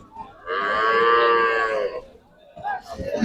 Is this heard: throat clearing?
no